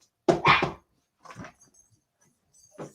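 Several dogs barking indoors in an excited burst, one loud bark cluster up front followed by quieter, more distant barks, with a person's voice faintly in between.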